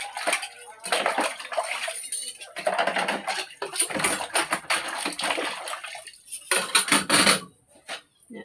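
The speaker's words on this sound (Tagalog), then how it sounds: "Guys, hugas tag mga tasa." Cups and dishes are washed by hand, with running water, clinking ceramic and rattling cutlery in close, busy bursts separated by brief pauses.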